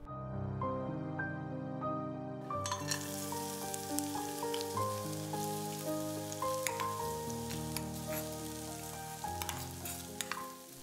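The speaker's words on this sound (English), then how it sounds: "Fry for 1 to 2 minutes." A coarsely ground green chilli and mint mixture frying in a little cooking oil in a pan, a steady close sizzle that begins a couple of seconds in and continues under music-like tones.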